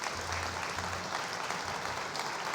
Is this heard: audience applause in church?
yes